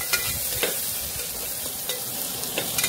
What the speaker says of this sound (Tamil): அதுக்கப்புறம் கட் பண்ணி வச்சுருக்க வெங்காயத்தையும் பச்சை மிளகாயையும் போட்டு நல்லா வதக்கிக்கலாம்.